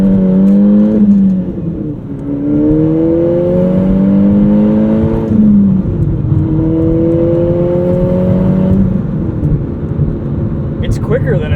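A 2008 Volkswagen GTI two-door with a manual gearbox pulls hard through the gears, its engine note rising and dropping with each shift, loud and steady from inside the cabin while people talk over it.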